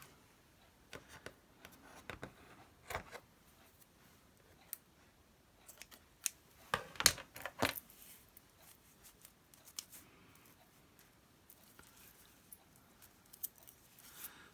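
Scissors snipping curly bits off eyelash trim, a series of faint, close, irregular clicks and light snips with short pauses between them, no talking.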